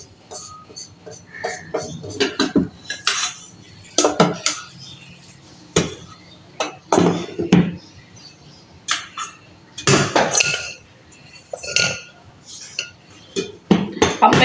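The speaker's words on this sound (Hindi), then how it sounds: "इसको ठंडा करके हम इसको अपने हवन दस्ते में कूट लेंगे" Cooled spices pounded in a mortar and pestle in a home kitchen while making chicken curry, giving repeated sharp knocks and clinks at an irregular pace, with pauses between strokes.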